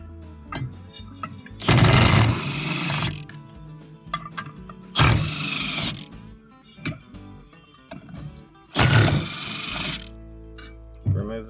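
An impact tool with a T50 Torx bit removes clutch bolts on a Polaris RZR Pro XP Turbo, three loud rattling bursts of about a second each, with quieter clinks and a voice between them.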